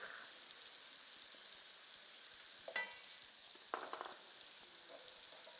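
Garlic tossed into a pan already cooking tomatoes and spinach for a budget Kenyan ugali, spinach and eggs meal gives off a soft, steady frying sizzle, with a couple of brief clatters from stirring.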